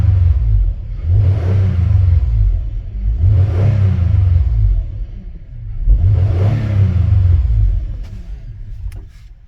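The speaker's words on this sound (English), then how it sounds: "now rev up the engine" A Lexus RX330 engine with a throttle actuator fault revs three times in a row, each rise swelling to a loud roar and dropping back to idle rumble, close by.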